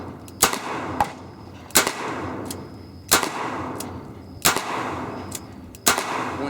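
A Smith & Wesson Model 610 10mm revolver with a heavy barrel fires .40 caliber rounds outdoors, five loud sharp shots spaced roughly a second and a half apart over steady background noise.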